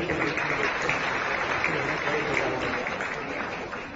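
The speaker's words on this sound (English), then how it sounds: "So a huge round of applause for him." Steady, dense applause from a crowd at a Giants International Day ceremony fills the whole stretch, a continuous wash of clapping that holds evenly throughout.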